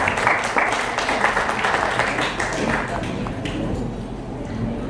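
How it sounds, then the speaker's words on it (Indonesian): Audience clapping at a university book discussion of a children's poetry collection at Universitas Jenderal Sudirman, brisk dense claps at first that gradually thin out, with some voices mixed in. "Tepuk tangan untuk Pak Anton, Mas Anton."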